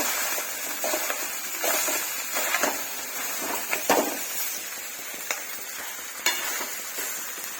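A spoon scraping and stirring rice for khichdi in a pot on the stove, with soft irregular clinks and scrapes over a steady hiss, close up with no talking.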